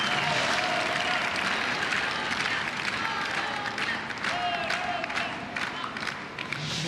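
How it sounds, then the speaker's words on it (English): Crowd at a Paralympic boccia gold medal match in Paris cheering and applauding steadily throughout, a dense roar of clapping and voices with no single voice standing out. "Another cheering section in the crowd."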